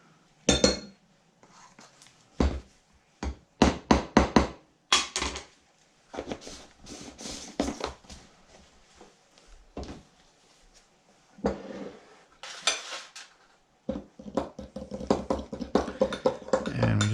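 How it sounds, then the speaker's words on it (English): A spoon stirs cornstarch into hot liquid in a crock pot, with irregular clinks and scrapes against the ceramic in quick clustered bursts, some pauses, and a busier stretch at the end. "we just want to mix that with the hot liquid until it's well combined"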